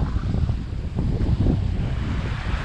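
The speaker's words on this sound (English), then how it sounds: "Got winds gusting around 30 knots." Strong wind buffets the microphone on the Potomac River, with gusts near 30 knots and choppy whitecapped waves sloshing against a sailboat in a loud, steady roar.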